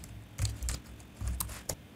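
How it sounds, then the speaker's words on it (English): Quick keystrokes on a computer keyboard while writing a Microsoft Teams chat message, heard as two soft clusters of taps against a quiet room. "So let's type here a quick message."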